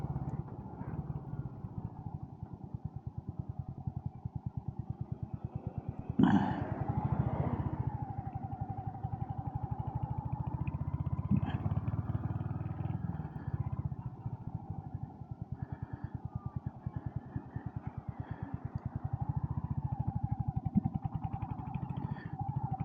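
A Royal Enfield HNTR350 motorcycle engine runs steadily while riding, a continuous low rumble that holds for the whole stretch, close and fairly loud, with a few brief revs and shifts in pitch and no talking.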